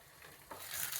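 Spiced chicken roast frying in a pan over a medium flame, a soft steady sizzle that swells louder partway through, with no voices.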